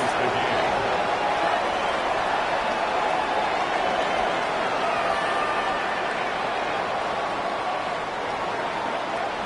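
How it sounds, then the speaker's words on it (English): Stadium crowd roar in the Madden 26 football video game, a dense, steady wash of cheering that holds loud throughout with no pauses. "This crowd alive again."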